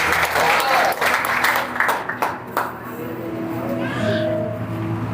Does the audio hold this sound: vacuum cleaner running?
no